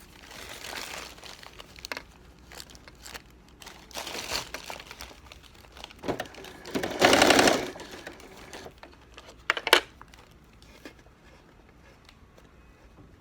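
A sewing machine stitches bias binding around the edge of a crib changing pad, in several short bursts of whirring stitching mixed with soft fabric and paper rustling, the longest run near the middle.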